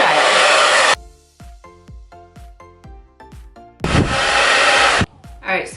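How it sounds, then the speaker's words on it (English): A handheld blow dryer drying hair runs loud and steady for about a second, cuts off, then starts again later for another second-long blast, with quieter tonal sounds in between. "I'm going to take my blow dryer and blow dry"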